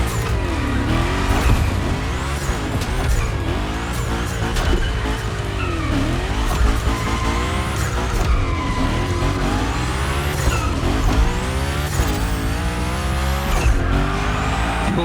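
The Unicorn car slides through gymkhana drifts in The Crew Motorfest, tires squealing repeatedly over a loud, revving engine, with rising and falling pitch sweeps as it whips through continuous big slides.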